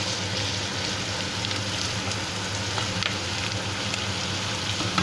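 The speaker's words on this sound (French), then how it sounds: "maintenant, là, on laisse suer un petit peu les légumes" Vegetables sweating in a pan for moules frites give a steady, even sizzle with faint crackles, continuous and moderately close, no voices.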